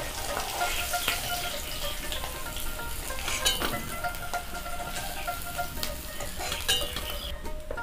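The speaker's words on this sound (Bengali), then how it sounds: "আমি আলুগুলো ভেজে নেব।" Potato pieces fry in oil in a village kitchen, a dense continuous sizzle and crackle close by, with a few light utensil clinks and no voices.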